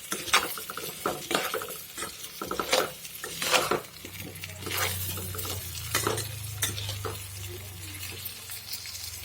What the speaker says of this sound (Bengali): আমের সাথে মশলাগুলো ভালো করে মিক্স করে নেব।